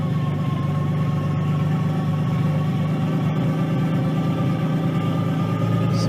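A Nissan 240SX S13 with a swapped RB20DET engine idles steadily and close by, its low, even drone running on alone without a break or any talk.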